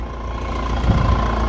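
A 2007 Mahindra Scorpio CRDe diesel engine idles with the bonnet open, a steady, loud, close-up clatter with an even low throb and no voices.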